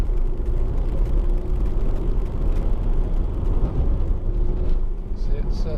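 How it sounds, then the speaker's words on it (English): Dense, continuous road and engine rumble from inside a moving Honda Civic 2.2 i-DTEC EX hatchback, a five-door diesel, as it pulls past another car, with a steady low drone that hardly changes. "So I'm just going to zip by this car a second."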